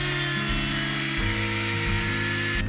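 A power tool grinds and sharpens a metal knife blank in a knife maker's workshop, a loud steady whine with shifting pitch steps throughout, running alone without talk.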